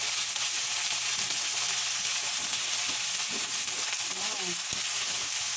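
Crab frying in a pan with squash and string beans, a steady loud sizzle throughout with brief stirring clatter and a short spoken word.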